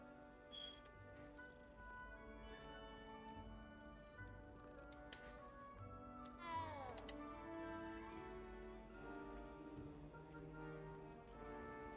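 A cat meows in a wizard video game set at a castle, short mewing calls rising over a steady bed of game music and faint voices.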